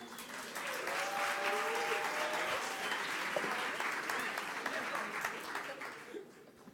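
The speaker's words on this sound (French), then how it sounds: "applaudissez-la maintenant." An audience at a business-creation gala in Montreal breaks into sustained applause, with dense, steady clapping that swells and slowly fades, some faint voices underneath.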